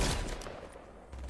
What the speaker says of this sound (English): Gunshot. Where am I getting shot from?